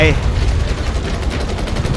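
Gunfire in the video game Battlefield 2042, a dense, continuous stream of rapid shots and blasts filling the whole moment, loud and close.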